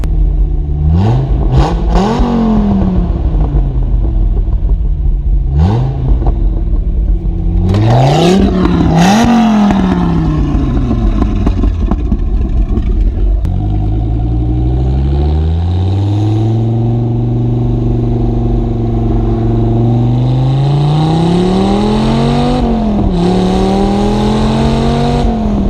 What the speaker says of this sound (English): the pops and the crackles you got with the exhaust were just amazing.